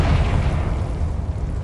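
A Confringo spell explosion in Hogwarts Legacy, a short rumbling blast with heavy low boom that stays loud and dense for its brief length.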